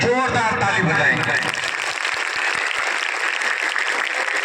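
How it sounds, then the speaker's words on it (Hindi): A church congregation at a Christian prayer meeting in Ambedkar Nagar, Uttar Pradesh, claps loudly and continuously in dense, close applause, with a voice speaking over it at the start. "ये परमेश्वर की उपस्थिति के लिए जोरदार ताली बजाएंगे"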